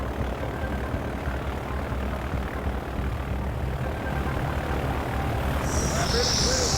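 Airplane engine before a skydive in Hawaii: a steady, loud propeller drone throughout, with no talk over it.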